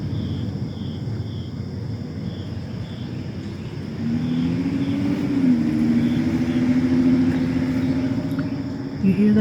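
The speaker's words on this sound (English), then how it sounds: "Hold on, my neighbor's Mustang's fixing to go." A neighbor's Ford Mustang and a loud SUV drive past a house: a steady engine rumble that swells partway through and holds as a droning pass. No one speaks.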